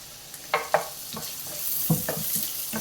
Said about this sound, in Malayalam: ഇനി നമുക്ക് അരിഞ്ഞു വെച്ചിരിക്കുന്ന പച്ചമുളകും കൂടെ ചേർത്ത് കൊടുക്കാം.